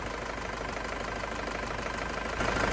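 An Isuzu Panther Grand Touring 2005 engine idles in a steady, even drone. It is loud and close, holds a constant rhythm throughout, and there is no talking.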